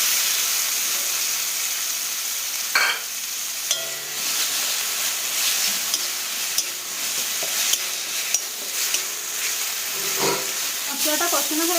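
Spice masala with tomato paste, salt and turmeric sautéing in a pan, a continuous bright sizzle and hiss broken by occasional stirring scrapes and clinks, close by without talk.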